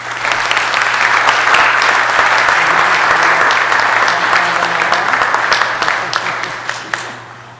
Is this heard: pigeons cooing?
no